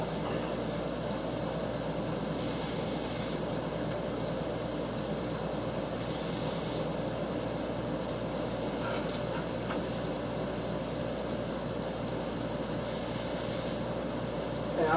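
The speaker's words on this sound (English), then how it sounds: "I'm spraying the bread so it can get crispy." Cooking spray hisses onto bread buns browning in a pan, three short bright bursts standing out over a steady sizzling, rumbling kitchen background.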